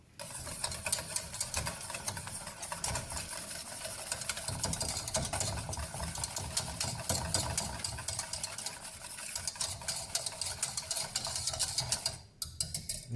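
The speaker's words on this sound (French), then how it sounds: "On va même prendre un petit peu le fouet pour être sûr qu'il n'y ait pas de grumeaux." Whisk working through raspberry purée in a bowl for a charlotte, a steady rapid scraping and ticking rhythm that runs continuously and fairly close, with a short pause near the end, no voices.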